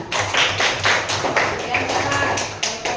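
A classroom of students clapping their hands in steady rhythmic bursts of sharp, close claps lasting several seconds, with a voice speaking faintly underneath.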